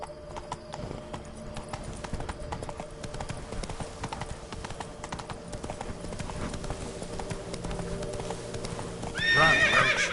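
Roach the horse galloping in The Witcher 3: Blood and Wine, rapid rhythmic hoofbeats throughout, closing with a loud neigh near the end.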